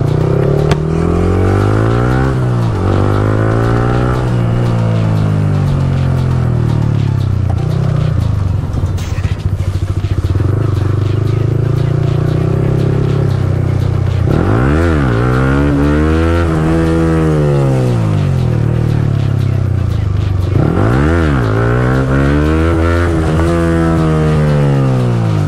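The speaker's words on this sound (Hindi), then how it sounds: "चलो चलो व्हीली मारेंगे आज, व्हीली व्हीली व्हीली।" A Yamaha R15M motorcycle revs hard while being ridden on its back wheel, the engine note climbing and falling in three loud surges over a constant close drone.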